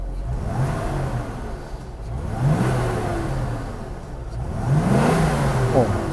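A 1979 Mercedes-Benz C107 350SLC V8, freshly repaired fuel distributor, revs up from idle three times, each rise a rolling throaty climb settling back down, close and steady with no talk.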